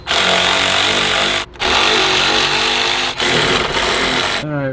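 A power tool runs in loud, close bursts while unbolting the catalytic converter from the headers of a Ferrari F430, a harsh whirring buzz broken by two brief pauses and a drop in speed near the end.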